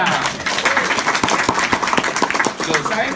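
Audience applause at an indoor mentoring session in an office, a burst of irregular clapping with distinct sharp claps standing out over crowd murmur and voices.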